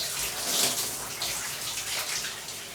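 Running water splashes steadily over long hair as shampoo is rinsed out, a close, continuous wash of spray with no voices.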